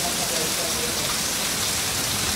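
Rain pours down in Caxias on the last day of 2015, a steady, dense hiss of falling water that stays constant throughout, with no voices.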